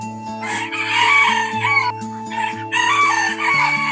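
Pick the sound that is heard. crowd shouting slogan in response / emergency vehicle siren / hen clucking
hen clucking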